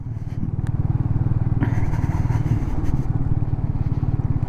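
A Royal Enfield Meteor 350 motorcycle riding through the Oise countryside, its single-cylinder engine thumping in a steady, fast rhythm close up, with a brief burst of wind or road noise partway through.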